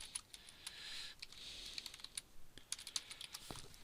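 Rapid, irregular clicking of keys on a computer keyboard, soft and close, in short bursts with tiny pauses and one sharper final keystroke.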